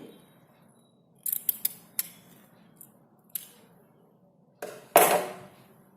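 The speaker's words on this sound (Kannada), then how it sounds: "ಇದಿಷ್ಟು ಜಾಗ ಅದನ್ನು ಕಟ್ ಮಾಡ್ಕೊಬಿಡಿ" Scissors snipping blouse fabric in a quiet room, a cluster of quick crisp cuts followed by scattered single snips and a final longer louder slice, with no talking.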